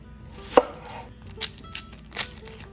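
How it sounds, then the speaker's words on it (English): A knife slices onions thinly on a cutting board for a Spanish tortilla, giving a few distinct close chops with a sharp first cut followed by lighter, irregularly spaced strokes, with no talking. "So I have 2 onions here that I'm going to simply slice"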